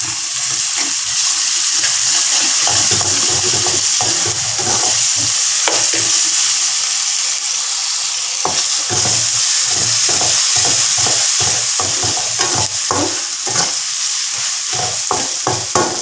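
Onions with ginger-garlic paste sautéing in a pan for prawn sambal, a steady loud sizzle and hiss throughout with repeated scraping stir strokes, sharper and more frequent toward the end.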